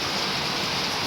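Steady, dense rain pours down close by in an even, loud hiss with no breaks and no voices.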